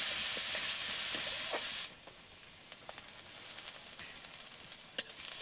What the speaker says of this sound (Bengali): পেঁয়াজগুলো আমি 2 থেকে 3 মিনিট ভেজে নেব।